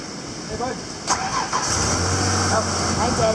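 A 1984 Ford F-150 pickup truck cranks and fires up nearby, a short starter whir, a catch, then a steady low idle rumble, while a voice talks over it.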